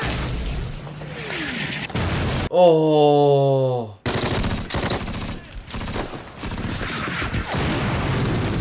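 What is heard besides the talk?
explosions and gunfire in a war scene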